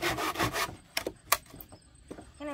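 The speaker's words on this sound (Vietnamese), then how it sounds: "Thảo nào thấy cưa khó hơn nọ" A hand saw with bent, damaged teeth rasps through wood in a few short, uneven strokes, close and fairly quiet, each pass a gritty scrape separated by brief pauses.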